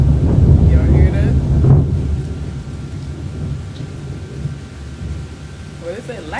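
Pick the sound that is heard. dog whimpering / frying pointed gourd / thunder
thunder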